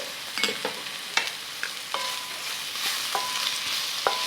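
Ground spices (sweet and smoked paprika, salt, black pepper, cumin, marjoram, with a bay leaf) tipped into a pan for a German paprika goulash, giving a steady soft sizzle punctuated by scattered light clinks and stirring taps, with no talk.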